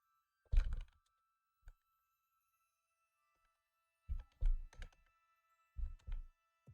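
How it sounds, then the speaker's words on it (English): Bursts of typing on a computer keyboard clatter close by, a quick flurry, a single tap, then a few short clustered runs of keystrokes separated by near silence in a quiet room. "I wonder if you guys can hear me typing when I randomly start typing"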